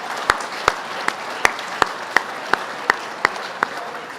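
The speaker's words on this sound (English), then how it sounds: "let's give ourselves a big round of applause for a great day today" Applause from an audience at the close of the 2016 Adirondack Challenge gathering: a steady wash of clapping with sharper, evenly spaced loud claps standing out about every third of a second, with no talking.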